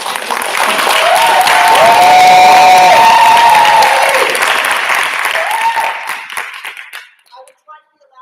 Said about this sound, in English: So we all can give a round of applause for Brian.